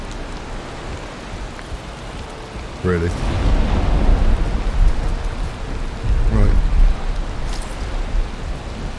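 Rain falls steadily in the video game Valheim, a dense hiss of droplets filling the background, with someone speaking briefly over it.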